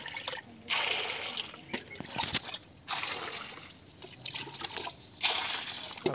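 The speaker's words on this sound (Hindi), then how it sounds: "अभी इसे मैं बाहर में धो ले रहा अच्छे तरीके से" Cut mango pieces being washed by hand in water, with repeated splashing and sloshing bursts close by, a brief lull between each scoop of the wet fruit.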